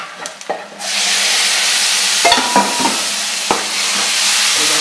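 A mixture with salt and turmeric being stirred in a pot in a restaurant kitchen, with a loud, constant sizzle and hiss and a few sharp scrapes and knocks of the utensil.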